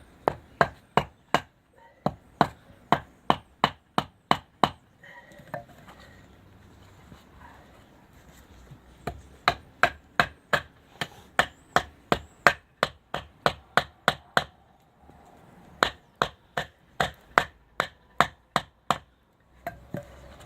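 A Chinese copy of an Esee 3 knife chops dry wood in quick runs of sharp, close knocks, with a pause in the middle before the rhythmic strikes resume.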